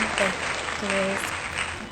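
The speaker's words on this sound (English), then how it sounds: "guest clapping" Wedding guests clap together after a ceremony, a steady wash of applause with a brief tonal voice or music line over it near the start and middle.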